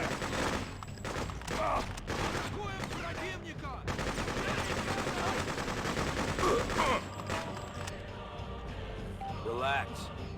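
Rapid, dense gunfire from many shooters in the Freedom Fighters video game crackles steadily throughout, mixed with overlapping game voices.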